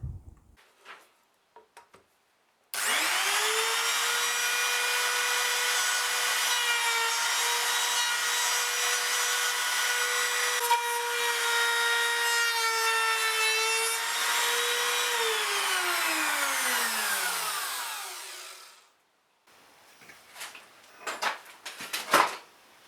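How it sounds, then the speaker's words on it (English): A router spins up to a loud, steady high whine while cutting a cavity for a Floyd Rose tremolo into a guitar body, holds for about fifteen seconds, then winds down, followed by faint handling knocks. "this will be the last routing for the time being and we can get on to fitting it"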